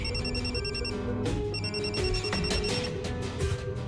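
A phone rings with a loud electronic ringtone, a repeating pattern of bright tones with a brief break partway through, and no voices over it.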